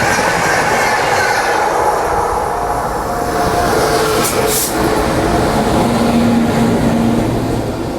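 The August Kranti Rajdhani train comes in on the line beside an Indian Railways train, producing a loud, steady rolling rumble with light clatter and a faint wheel squeal, heard from on board.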